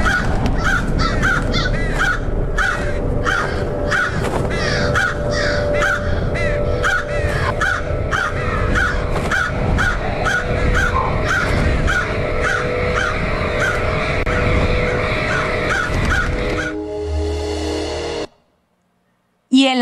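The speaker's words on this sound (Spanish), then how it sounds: "Los cuervos," A flock of crows caws loudly and continuously, harsh overlapping calls repeating in quick rhythm over a dense background before cutting off abruptly near the end.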